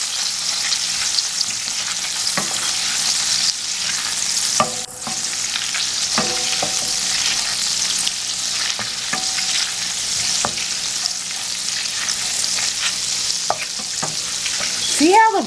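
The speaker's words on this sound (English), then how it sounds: "Next, we're going to put in 2 teaspoons of soy sauce. And just stir that in." Soy sauce stirred into garlic frying and browning in a pan, a continuous bright sizzle with scattered utensil scrapes and clinks against the pan throughout, close and steady.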